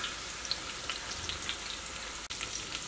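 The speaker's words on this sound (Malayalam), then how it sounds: "ഇനി ഇഞ്ചി വെളുത്തുള്ളി നന്നായിട്ടൊന്ന് മുരിഞ്ഞ് വരട്ടെ" Crushed ginger and garlic fry in hot ghee and coconut oil for a Kerala-style biryani, giving a soft, steady sizzle with faint crackles and pops close by.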